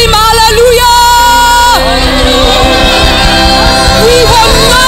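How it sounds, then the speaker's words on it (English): A church congregation shouts and whoops together during a funeral service, the loud, excited crowd voices rising over sustained, continuous music throughout. "Can somebody scream hallelujah?"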